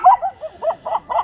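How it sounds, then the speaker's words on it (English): A dog barks in a quick run of about six short, sharp barks, close by and fairly loud, with brief gaps between them. "now it changes the frequency of the bark"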